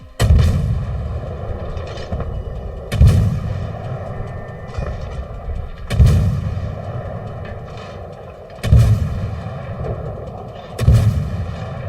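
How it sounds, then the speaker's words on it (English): Naval guns firing in World of Warships, five heavy booming shots spaced about three seconds apart, each with a sharp onset and a long rumbling tail over a steady engine drone. "Again, range finding. Fire one shot. See where it goes."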